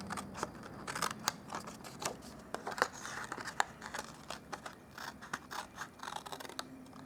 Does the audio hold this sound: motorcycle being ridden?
no